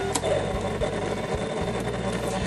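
3D printer at work on a scale model part of an A-7A Corsair II, a steady mechanical whir with motor whine and small rhythmic clicks and knocks, close and continuous.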